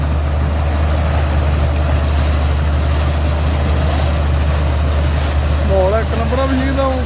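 Tractor engine running a potato planting machine in a field, a steady loud low rumble throughout with some rising tonal whines near the end.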